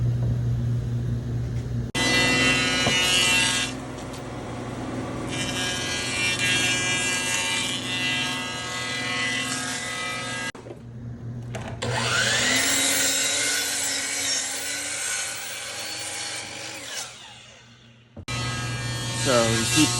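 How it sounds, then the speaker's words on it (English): A wood jointer planes boards down to width during a bathroom remodel, its loud high whine starting and stopping in several long passes with brief silences between, and people talk over it. "running them through the joiner to get enough off of each one so we can get down to our 29-inch width"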